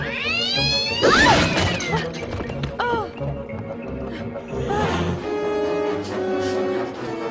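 A cat meows and yowls in drawn-out, rising cries, loud and close, with scuffling thumps and a person's voice mixed in.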